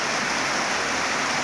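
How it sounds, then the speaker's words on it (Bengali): Heavy rain falls in Barisal amid flooding, a loud, unbroken roar of dense drops close by with no other sounds. "গতকাল রাত থেকে প্রচুর বৃষ্টি হচ্ছে"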